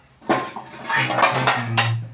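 Metal lid set onto a cooking pot of simmering food, a few close clinks and clatters of pot and cover over a low steady hum.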